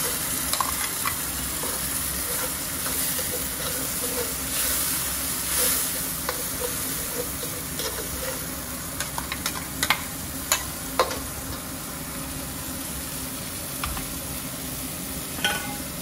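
Tomato paste stirred into hot oil in a pan for a Nagpuri tur bean aamti: a steady, fairly loud sizzle runs throughout, broken by a few sharp scraping clicks of the spoon, with no talk.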